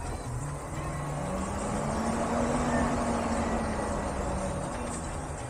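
A converted school bus, or skoolie, creeps down a steep one-way grade in first gear, its engine holding a steady low drone that rises slightly in pitch midway, close and continuous with road noise underneath.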